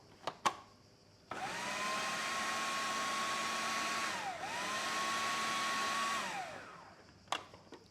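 A food processor blitzes anchovies dry, switching on with a steady high whirring drone that briefly dips mid-run, then winds down, with a few clicks before and after.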